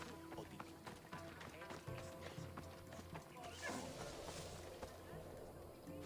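Horse hooves in Assassin's Creed Odyssey clip-clop in a steady running rhythm across a busy game soundscape, moderately loud with a brief swell partway through and voices talking over them.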